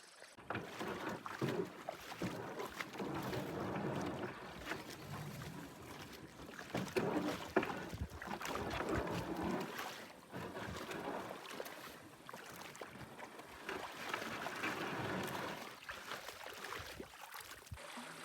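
A canoe is paddled on a shallow river in the backcountry, with water sloshing and dipping strokes close by, a hull knocking now and then, and wind rustling against the microphone.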